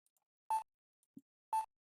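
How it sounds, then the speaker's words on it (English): Phone beeping in the Phoenix Wright: Trials and Tribulations video game: two clear electronic beeps about a second apart, with a faint low blip between them, otherwise quiet. "Beep, beep,"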